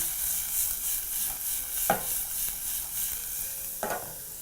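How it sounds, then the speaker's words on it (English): White onions sweat and fry in a pan with a steady, close hiss of sizzling oil, broken twice by brief scraping stir strokes, with no voices. "Now you're going to allow those to continue cooking and sweat out just a little bit before coloring."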